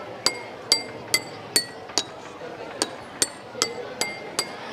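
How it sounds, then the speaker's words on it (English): A metal spoon strikes a row of drinking glasses filled with different amounts of water at a school science fair, giving about ten bright, ringing clinks in a steady rhythm. Each tap rings at its own pitch and decays quickly, close and clear. "we should strike them with a spoon, scale or pencil"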